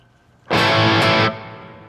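A single loud, distorted electric guitar chord played through an amp with studio reverb rings out for under a second, then cuts off, leaving a short reverberant tail.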